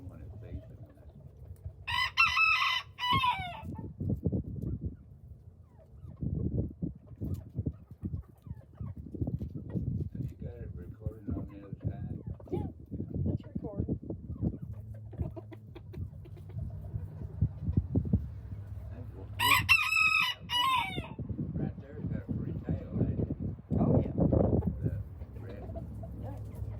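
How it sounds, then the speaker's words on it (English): Several roosters crow in a backyard chicken yard, two loud cock-a-doodle-doo calls standing out near the start and again about two thirds through, with steady clucking and low farmyard bustle in between. "all three of those are roosters too. They're all three roosters."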